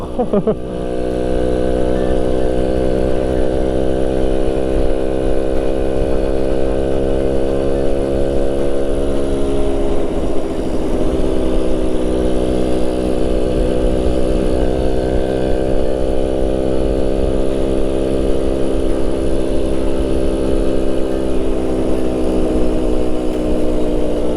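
Suzuki RC100 motorcycle being ridden, its two-stroke single engine buzzing loudly and steadily up close, pitch climbing and dropping as it shifts and changes speed, with wind rumble throughout.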